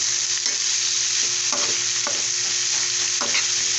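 White bitter gourd fries in a pan with a loud, constant sizzle, a spatula scraping and clacking against the metal every second or so.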